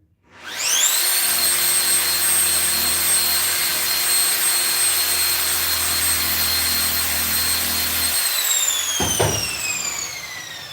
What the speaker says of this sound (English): If you don't have a heavy duty sander and you're into knife throwing, I would suggest you get a heavy duty sander.